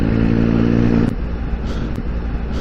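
Motorcycle engine on a commentated road ride through the New Forest, a steady loud drone with strong low harmonics that drops to a rougher, quieter running note partway through, heard close and alone.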